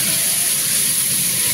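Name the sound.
frying in a little oil in a hot wok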